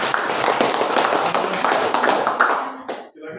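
Classroom students clap together in a brisk, scattered burst of applause that holds steady for about three seconds and then stops abruptly, with faint voices mixed in.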